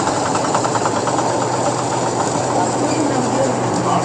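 A large combine harvester runs during the wheat harvest, its engine a loud, steady, close mechanical drone with a faint rhythmic knock that holds unchanged throughout.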